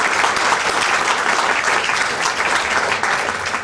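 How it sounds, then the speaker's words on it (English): An audience gives a round of applause for a team at a history center talk: dense, steady clapping from many hands, loud and close, sustained without a break and free of speech. "I'd like to give all of them a big round of applause"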